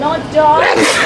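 A single loud, close sneeze bursts out right after a voice finishes speaking, on board a trolley ride in Solvang.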